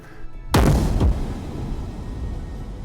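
An underwater explosion: a sudden deep boom strikes, followed by a second thud, then a long low rumbling wash that slowly fades, muffled and heavy like a blast through water.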